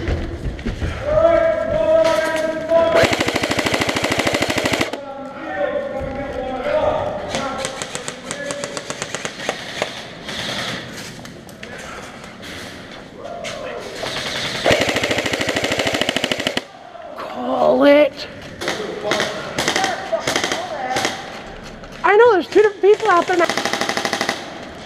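Rapid machine gun fire in a video game, loud bursts of automatic shots in several clusters with brief pauses, mixed with game effects while players talk over it.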